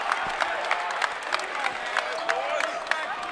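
A home crowd at a high school basketball state tournament game applauds and cheers after a block and layup, a dense wash of clapping and shouts with a commentator talking over it.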